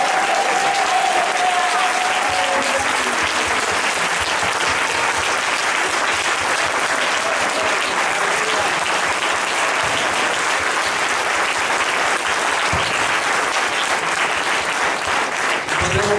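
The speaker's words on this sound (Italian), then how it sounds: "Adesso possiamo fare il più bel applauso però per chi merita davvero" A congregation applauding in an evangelical Christian church, sustained, dense clapping from a large crowd that fills the whole stretch at even loudness.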